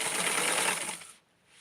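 A sewing machine runs briefly close to elastic while gathering fabric for a small doll garment, giving about a second of steady close whirring before it stops.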